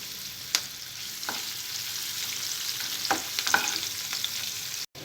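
Green chilli pieces, onion pieces and curry leaves sizzle in hot oil for an egg kurma, a steady close crackling hiss broken by a few spoon clinks and stirring scrapes, with no one talking.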